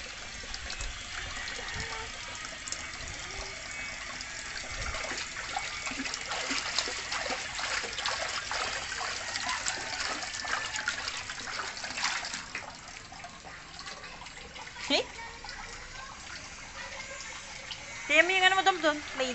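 Water poured during a bucket bath, trickling and splashing faintly under background noise and intermittent voices, with a voice briefly rising near the end.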